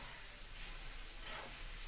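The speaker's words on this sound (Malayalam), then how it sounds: "പിന്നെ ഒന്നുകൂടി നമുക്ക് എണ്ണയിലിട്ട് വറുത്ത് പോരാം" Jackfruit chips frying in hot oil: a soft continuous sizzle and hiss with a slight swell partway through, close and faint, no voices.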